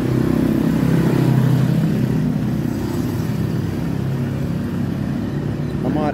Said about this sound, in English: the traffic's starting to pick up